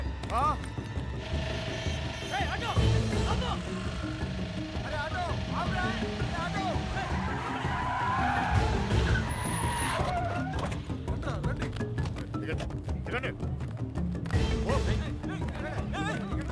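An auto rickshaw's engine rattles and clatters continuously as it pulls away, with a mechanical ticking texture and background noise throughout.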